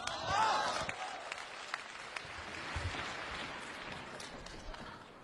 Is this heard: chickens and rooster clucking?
no